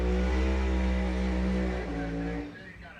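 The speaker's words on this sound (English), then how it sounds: "Listen to the burnout," A Pro Mod drag racing car, in a matchup between a 1968 Camaro and a 1957 Chevrolet, roars through a burnout with a loud, deep, steady engine drone that eases off near the end, with an announcer talking over it.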